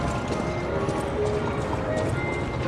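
Horses clip-clopping in the video game Lies of P, a steady run of hoofbeats under faint background sound with no talk.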